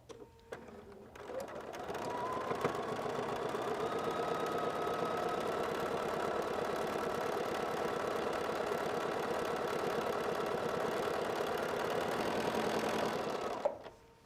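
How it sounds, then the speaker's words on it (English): A sewing machine stitches down the side of a quilted bag, its needle running in a steady, fast mechanical chatter for about twelve seconds after a brief start-up, then stopping. "I'm going to flip it over and I'm going to sew down the other side."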